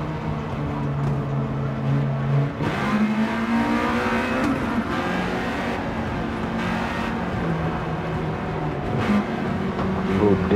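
A car in Gran Turismo 7 revs hard after a gear drop, its engine note stepping down then climbing and holding a loud, strained whine over several seconds, with faint tire noise.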